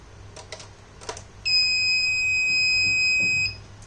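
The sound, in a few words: Arduino buzzer beeping, triggered by PIR motion sensor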